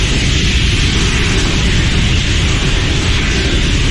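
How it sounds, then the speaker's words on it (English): A rocket launch pad's nitrogen purge for the sound suppression system at a Vulcan launch, a loud, continuous roaring hiss that holds steady and close throughout, with no talking. "it's the nitrogen purge sound suppression system"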